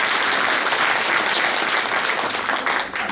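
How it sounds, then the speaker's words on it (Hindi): Audience applause at a spiritual class in Birgunj, Nepal: dense, steady clapping from a sizeable crowd, loud and close, tapering slightly at the end with no talk over it. "क्या बात है जी, ताली बजाइए अपने लिए।"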